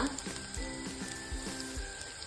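Mutton sambar ingredients sizzle and fry in a pan, a steady low crackle with soft stirring knocks recurring every half second or so, close and moderately quiet.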